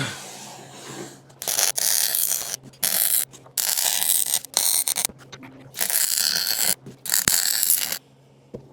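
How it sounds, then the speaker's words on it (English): Arc welding on an antique vice grip, burning through old paint and rust: loud bursts of crackling, sizzling arc noise in several separate runs of about a second each, with short quiet gaps between them and no talk. "Just burning through that with the arc."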